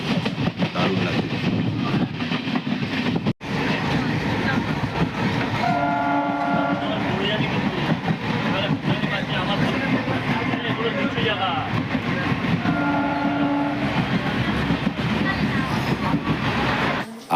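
Riding inside a moving local train bound for Hasnabad: a loud, constant rumble with rhythmic wheel clatter, and a horn sounding twice in long tones. Passengers talk now and then under the noise.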